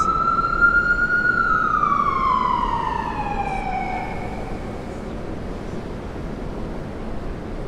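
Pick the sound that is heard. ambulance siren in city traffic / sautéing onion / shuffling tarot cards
ambulance siren in city traffic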